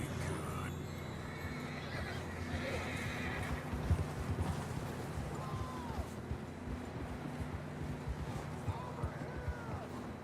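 Horses whinny and gallop in the video game Red Dead Redemption 2, hooves thudding in a busy rhythm beneath a couple of rising and falling neighs, with voices talking over the action.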